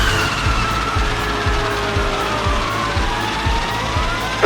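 Toy RC road service vehicles and fire engines race together, with a loud, continuous electric motor whine, gliding pitch sweeps and looping siren tones, plus a steady run of rhythmic low thumps beneath.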